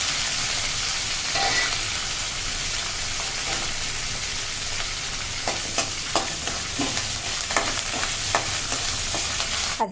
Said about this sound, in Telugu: ఒక గిన్నె పెట్టి వేడెక్కిన తర్వాత ఆయిల్ వేసి ఆవాలు,